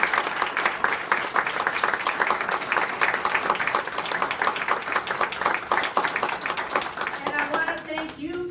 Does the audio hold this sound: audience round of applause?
yes